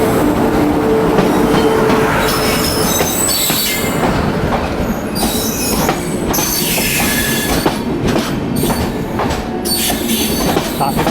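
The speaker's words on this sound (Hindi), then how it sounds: "और इस तरफ आ रही है new Delhi Indore intercity express." The New Delhi Indore Intercity Express rolls past near Mathura, a loud, close, continuous rumble of railcars with wheel squeal and rhythmic clickety-clack over the rails.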